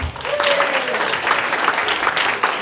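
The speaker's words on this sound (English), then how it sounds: "I think give a huge round of applause to them" Applause from a crowd of parents and spectators at a spelling bee championship for primary-level children, broad sustained clapping with a short whistle early on.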